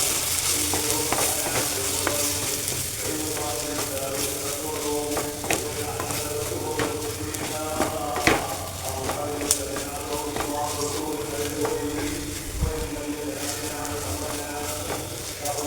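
Fish curry masala with chili powder and Kashmiri chili is sautéed in a pan for fish mulakittathu. Steady frying sizzle runs throughout, broken by clinking, scraping stirs of a spoon against the pan.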